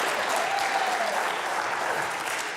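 Sustained audience applause at a game-show style event, steady dense clapping throughout at fairly even loudness, easing slightly toward the end, with no talk over it.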